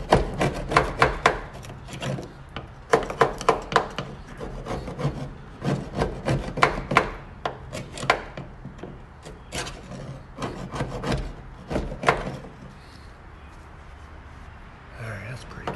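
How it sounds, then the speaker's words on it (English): A goop scraper rasps undercoating off the floor of a 1967 Ford F100 cab, producing repeated close scraping strokes in bursts, with short pauses and fainter rubbing toward the end. "I'm gonna take my goop scraper and start scraping here. Get the undercoating off."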